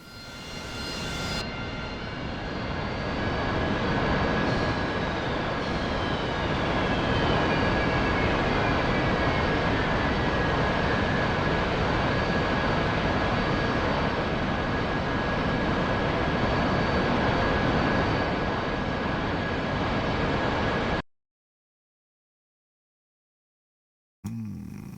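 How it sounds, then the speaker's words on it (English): Harrier jet engines start up in the DCS World flight game. A steady loud turbine roar builds with a rising whine and a sustained tone, then cuts out abruptly near the end. "Harrier boys are starting up"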